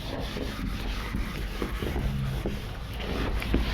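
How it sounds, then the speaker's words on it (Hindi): An eraser rubs across a board in a classroom lesson, making a steady scratchy scrubbing for several seconds with small rhythmic pulses of the strokes, heard alone without talk. "इसको क्यों मिटाना, इसी को मिटाता हूँ"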